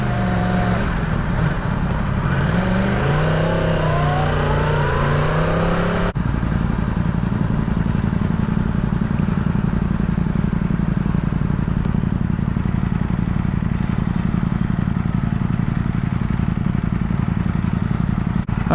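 Yamaha R1 superbike engine droning steadily and loud throughout a ride, with rising and falling rev tones in the first few seconds, then a constant, wind-mixed roar.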